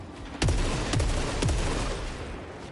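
A weapon in the video game Saros fires three clear, evenly spaced shots, each a punchy blast trailing off quickly, over a steady background hum.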